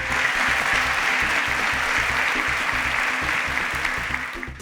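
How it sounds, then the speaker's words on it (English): A studio audience at a televised competition gives a steady round of applause, dense and even, continuing without a break and fading slightly at the end. "Please, a round of applause one more time"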